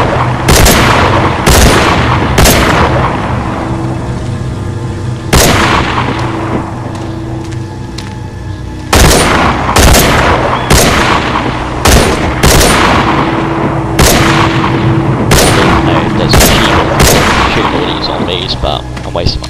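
Loud, sharp gunshots from the video game The Walking Dead: Survival Instinct crack out one at a time at irregular intervals, each with a short ringing tail, over a constant low game ambience.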